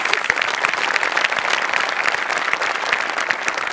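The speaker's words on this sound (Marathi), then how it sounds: "टाळ्या वाजवू" A studio audience at a Marathi comedy show claps loudly and steadily, a dense, even wash of applause with no voices over it.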